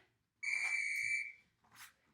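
A whistle blown once during a workout session, a single clear sustained tone of about a second, close and loud, followed by a brief soft rustle.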